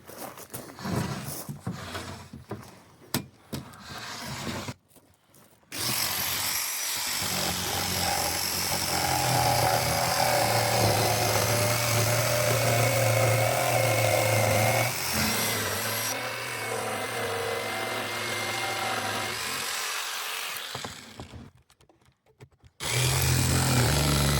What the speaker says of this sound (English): I have to do a little sanding there.